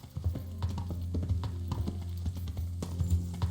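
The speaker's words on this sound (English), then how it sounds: "Bora, cavalo." Horse hooves clip-clopping in the medieval video game Kingdom Come: Deliverance, a steady, close rhythmic stream of hoofbeats over a low ambient drone, with no talking.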